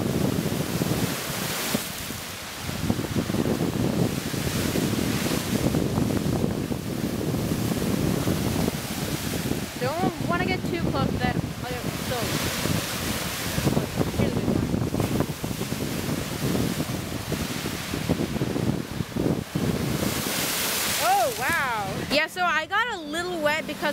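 Waves on Lake Erie break and splash in a steady wash of surf against wind noise, with louder bursts from bigger splashes and occasional voices in the background.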